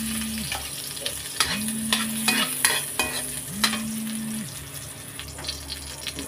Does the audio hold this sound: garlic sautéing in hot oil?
yes